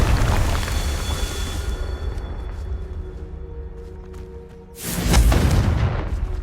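A Confringo spell explosion in Hogwarts Legacy: a roaring blast that fades over a few seconds, then a second sudden loud burst with a deep boom near the end.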